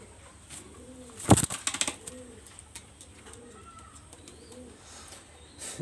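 Pigeons coo in a steady series of soft, repeated rolling calls, with a brief burst of rustling or wing flapping early on, fairly close but not loud.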